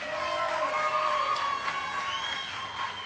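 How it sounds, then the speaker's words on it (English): A crowd of kids and adults cheers and whoops for a child being introduced at a space-themed show, a bright swelling burst of shouts that trails off over about three seconds. "Give him a cheer, Tanner."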